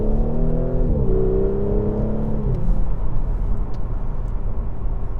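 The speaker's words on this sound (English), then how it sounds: "that motor, one of the smoothest turbocharged 6-cylinder engines that you're going to be getting into" A 2019 Audi S5 Sportback's turbocharged V6 pulls hard in comfort mode, its engine note climbing steadily in pitch through a gear, dropping at a shift, then settling into a dense steady roar from inside the cabin.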